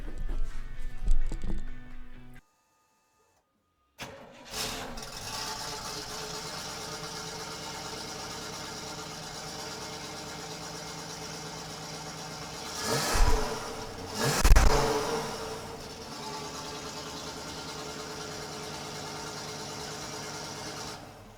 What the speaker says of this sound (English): It's time to fire it up and see what it sounds like.